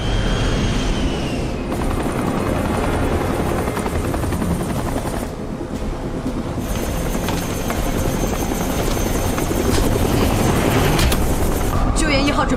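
A rescue helicopter lifting off amid a combat scene: a loud, continuous rotor and engine roar dominates, with bursts of gunfire and sharp cuts between shots, and voices faintly mixed in.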